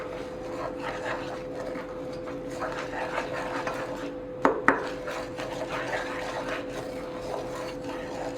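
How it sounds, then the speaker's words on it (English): Salt, powdered sugar and brown sugar are stirred together in a bowl for butterscotch squares, giving a steady gritty scraping and rubbing, with two sharp knocks midway and no talk. "And I'm gonna mix that all together."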